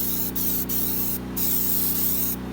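An aerosol can of rust converter spraying in a steady continuous hiss, close by, with a few brief breaks where the nozzle is released.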